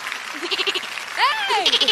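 A person imitates a goat's bleat with a quick run of short nasal pulses and then a wavering, drawn-out bleat, mixed with voices talking close by.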